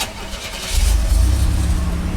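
A 1987 Buick Grand National's turbocharged six-cylinder engine cranks briefly, then catches and settles into a deep, steady idle, close and clear with no talking.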